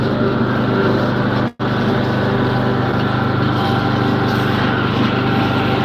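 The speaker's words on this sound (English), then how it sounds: "this is what a 4-wheel drive tractor is good for. Going up hills like this" An old-school 4-wheel drive tractor engine labouring uphill across wet ground, a loud, steady, close drone with one sudden brief dropout partway through, then the unbroken roar resumes.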